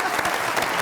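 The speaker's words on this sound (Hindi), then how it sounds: "बहुत सारी तालियां आसिम अजहर के लिए।" Applause from a studio audience on a Pakistani comedy talk show, a dense wash of steady clapping filling the short moment without a break.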